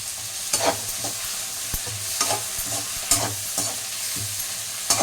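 Tomatoes, ginger and coriander sauté in a pan, giving a steady sizzle broken by repeated scraping strokes of a spatula at a slow, uneven rhythm, close and fairly loud.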